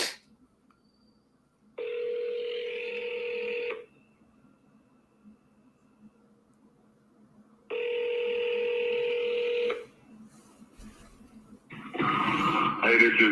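A telephone call is placed and rings out: two long, steady electronic ring tones separated by silence, clear and close, followed by a brief burst of line noise as the call connects.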